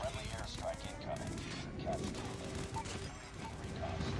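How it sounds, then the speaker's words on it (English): Gunfire and airstrike blasts in the Call of Duty Mobile video game, a steady dense rattle of shots with repeated muffled booms throughout, loud and continuous, with a voice briefly present. "Friendly airstrike incoming."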